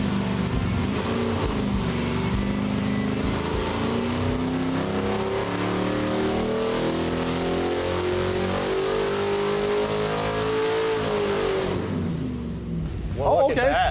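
A small block Ford V8 roars steadily on a dyno test stand, loud and sustained with rising pitch toward a peak, then cutting off sharply near the end as voices briefly break in.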